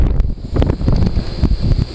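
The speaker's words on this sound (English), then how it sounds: "Wow, it's really windy." Strong outdoor wind gusts buffet the microphone beside a classic 1978 truck, making loud, uneven rumbling thumps that pulse and surge for the whole moment with no voices.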